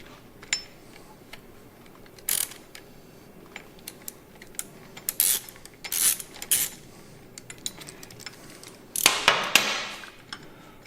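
An 8mm socket and ratchet work a bolt off a motorcycle side guard bracket, giving sparse, quiet metallic clicks and a few sharper bursts of ratcheting separated by pauses.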